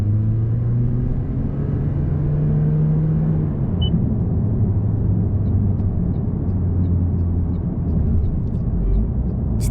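Toyota Prius fitted with a Ganador PASION EVO aftermarket muffler idles steadily with a deep, constant low rumble and faint hum, no voices, loud and continuous throughout.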